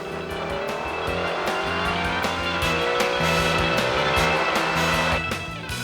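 IndyCar race cars at the 1999 Indianapolis 500 roar loudly and continuously around the oval, engine whine layered with passing cars and crowd wash, with no talk over it.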